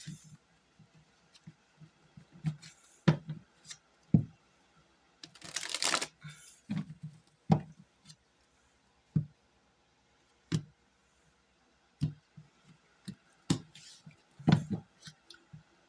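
Tarot cards shuffled by hand in sharp, irregular riffles and taps, close and fairly quiet, with one longer burst of rustling in the middle.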